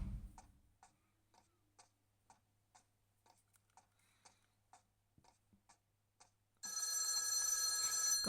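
A telephone rings in a quiet dark room, its faint repeated electronic rings spaced evenly about once a second, followed by a sudden burst of loud noise at the end.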